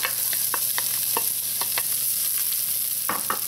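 Carrots go into butter browned in a hot pot. A steady sizzle carries a run of short scraping and stirring clicks, with no talk.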